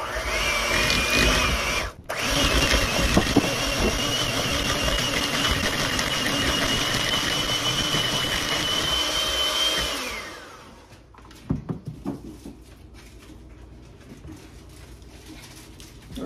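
An electric mixer whips heavy cream in a steady, loud whir for about ten seconds, then shuts off, leaving a few faint clatters and quiet room sound.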